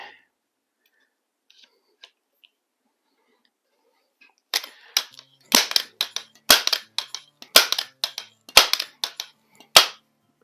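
A Crosman 147 multi-pump .177 pellet rifle fires several sharp, close shots in an uneven series after a quiet stretch, each crack snapping loud, with faint rustling and clicks between.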